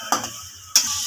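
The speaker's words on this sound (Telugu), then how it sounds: "ఇప్పుడు సన్నగా తరిగి పెట్టుకున్న ఆనియన్స్ వేసుకోవాలి." Thinly chopped onions with a little salt dropped into hot oil in a pan, giving two sudden bursts of loud hissing sizzle that settle into a steady crackle, with no voices.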